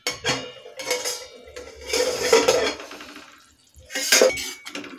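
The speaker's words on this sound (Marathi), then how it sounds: "आता याच्यावरचं झाकण काढू।" A metal lid comes off a cooking pot of guar bean sabzi, bright clanks and scraping clinks of metal on metal in short bursts, close and alone with a brief quiet gap before a final clatter.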